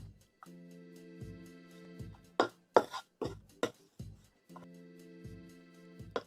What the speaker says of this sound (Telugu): ఇప్పుడు చింతపండును కూడా వేయించుకుందాం